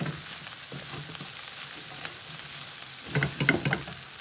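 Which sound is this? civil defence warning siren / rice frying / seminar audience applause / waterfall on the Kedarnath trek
rice frying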